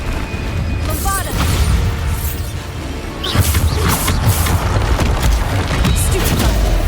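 Bombarda spell explosions in Hogwarts Legacy, loud booming blasts with crackling debris bursts over continuous dense game noise, one around the middle swelling into a sustained rumble.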